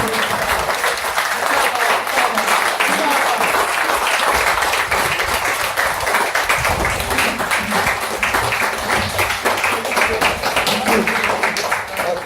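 Sustained applause from an audience at a mushaira in Baldia Hall, welcoming the poet Prof. Amir Sohail to the stage, with dense steady clapping that holds for about twelve seconds, mixed with faint crowd murmur.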